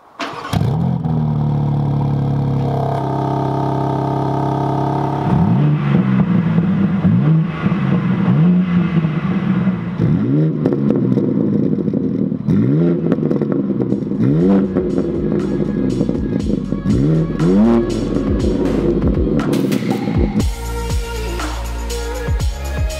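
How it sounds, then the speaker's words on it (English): A BMW G80 M3 Competition starts up and drives off, the engine cranking to life, settling, then pulling through repeated gear changes with rising and falling revs, loud and close from inside the car. "let's hop on board properly this time and go take this thing for a good old spin."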